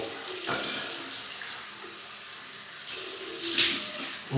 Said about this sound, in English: Cold water rinse and then...